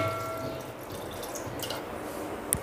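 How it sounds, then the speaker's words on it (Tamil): Water is added to a pot of mutton with turmeric and salt in a home kitchen, a soft, steady wash of running, dripping water heard close for a couple of seconds with no talking. "கொஞ்சமாக தண்ணி ஆட் பண்ணிக்கிறோம்."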